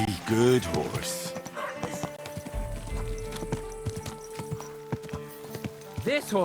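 Horse hooves clip-clop in a steady walking rhythm in the game Kingdom Come: Deliverance 2, close and moderately loud beneath background music, with someone talking at the start and end.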